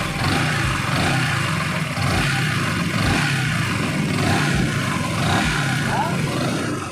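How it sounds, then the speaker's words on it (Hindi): A repaired Yamaha R15S motorcycle engine idles and runs nearby, a steady mid-pitched mechanical hum with slight regular pulsing and little variation. "अभी बाइक का साउंड बहुत कम हो गया है"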